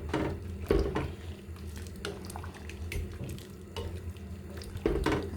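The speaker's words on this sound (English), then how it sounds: "I'm just gonna mix everything in" Seasoned diced beef being stirred into a pot of stew peas, with wet, thick scraping and sloshing spoon sounds continuing steadily up close, marked by a few heavier clunks against the pot.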